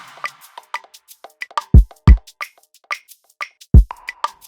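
Afrobeat drum pattern programmed in FL Studio, combining kick, conga and a heavily reverbed clap: booming kicks land a few times under a steady, syncopated groove of bright conga taps and clap hits, clean and loud.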